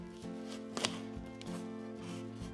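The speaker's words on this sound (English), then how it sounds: "carefully cut your squash in half lengthwise" A knife pressing through a microwave-softened spaghetti squash, cutting it lengthwise in half, gives faint crunchy cuts and taps on a board, a few soft chopping hits over a steady background hum.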